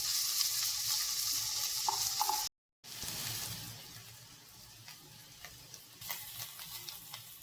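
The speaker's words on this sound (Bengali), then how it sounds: "এবার এটাকে আমরা হালকা করে সতে ফ্রাই করবো।" Onion and green chili sauté in a pan for a hot and sour chicken soup, a steady close sizzle with scraping stirs, broken by a brief silent gap before the frying resumes with small spatula clicks.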